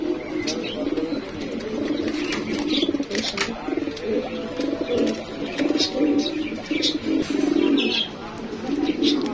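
Afsan grizzle pigeons coo in soft, repeated low rolling calls at close range on a pigeon farm, mixed with occasional wing and cage rustles and faint background chatter.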